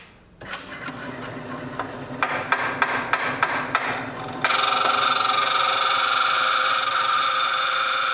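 Tapping something into place against tension: a series of sharp metallic taps at a steady rhythm, close and clear, followed by a sudden shift to a steady high-pitched mechanical whine.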